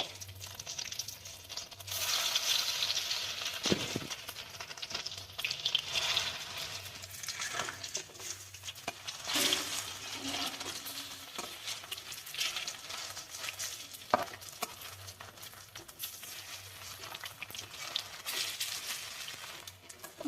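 Cauliflower pakoras fry in a pan of hot oil, giving a soft, steady sizzle with occasional light clinks and stirring scrapes. There is no voice.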